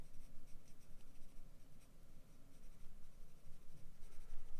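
Pencil shading on paper with a B-grade pencil, drawing misty mountain trees, a steady dry scratching that rubs back and forth continuously and fairly close, with no talk.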